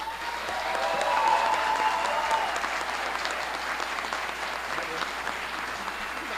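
An audience at a union event claps in steady, even applause after a speech, a sustained dense patter that rises slightly and holds, with a faint tone under it early on.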